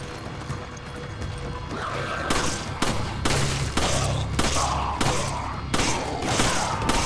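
Rapid bursts of video game gunfire from Resident Evil 5 crack out in a steady series of loud, sharp shots over a constant low rumble of game background noise.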